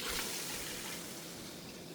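Ten cups of water pour into a cooking pot for a benachin rice dish, making a continuous rushing splash close by for about two seconds with no talking.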